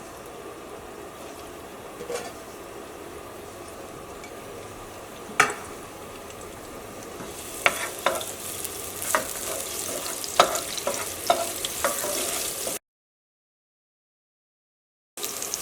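Ginger and onion sautéing in a pan, a low steady sizzle with sparse stirring clicks that grows louder and busier toward the end before a brief cut to silence.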